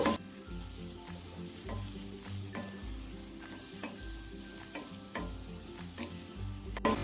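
Spices mixed with Kashmiri red chili powder sizzle in a hot pan while a spoon stirs and scrapes them in repeated strokes, with a low continuous hiss and clinking against the metal.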